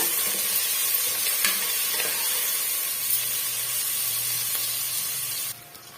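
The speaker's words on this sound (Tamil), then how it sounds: "நல்ல ஃப்ரெஷ்ஷான கருவேப்பிலை சேர்த்துக்கோங்க ஃப்ளேவர் வந்து நல்ல ஒரு சூப்பராக இருக்கும் டேஸ்ட் ரொம்ப அருமையாக இருக்கும் சேர்த்துட்டு வதக்கி விட்டுக்கலாங்க" Fresh curry leaves and onions sautéing in a pan for a mutton kulambu, a steady close sizzle with occasional stirring scrapes, dropping slightly quieter near the end.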